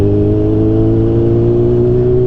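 Kawasaki Z1000R motorcycle engine under way while riding, a loud, steady mechanical drone holding an even pitch throughout, with no voices.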